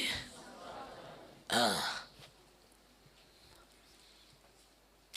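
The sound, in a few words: cough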